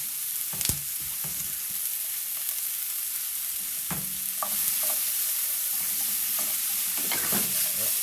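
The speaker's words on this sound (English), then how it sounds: "we're stir frying right now is what we're really doing. Stir fry, high heat." Peppers and chili stir-fried in oil over high heat for yellow curry noodles give a steady close sizzle, broken by sharp clacks and scrapes of stirring.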